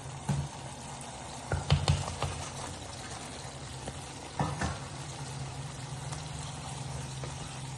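Low, steady bubbling and sizzling of a thick masala gravy simmering in a pan, with a few louder pops and a spoon clink, no voices.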